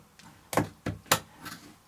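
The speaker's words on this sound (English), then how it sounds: "clip them off with scissors" Scissors snipping through fabric strips for a macrame rag rug fringe, a few crisp separate cuts spaced about every third of a second, close and fairly quiet with no talking.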